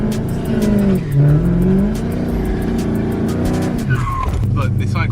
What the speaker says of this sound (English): So I'm about to try to do burnout.